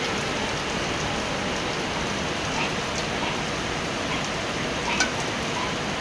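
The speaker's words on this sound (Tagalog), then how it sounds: "Maulang kasi." Steady rain falls in a constant, even hiss with a few faint drops standing out, continuous and moderately quiet throughout.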